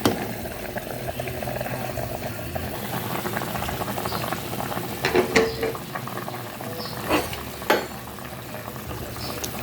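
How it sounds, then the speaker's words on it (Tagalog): A pot of pork sinigang stew boils steadily, a continuous bubbling and gurgling with occasional louder pops and splashes, close and fairly loud throughout. "Sa kulo-kulo lang yan siya."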